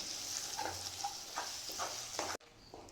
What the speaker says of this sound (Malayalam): ഒരു അര സ്പൂണ് ഗ്രീൻ ചില്ലി സോസ് കൂടെ ചേർത്ത് കൊടുത്തു ഇത് നമുക്ക് നന്നായിട്ടൊന്ന് ഇളക്കി യോജിപ്പിക്കാം